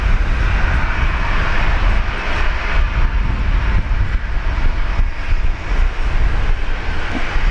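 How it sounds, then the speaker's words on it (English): Air Canada airliner arriving at Brisbane Airport, a continuous loud engine roar with a bright mid-range whine, steady and sustained with no voices. "Oh, here comes Air Canada."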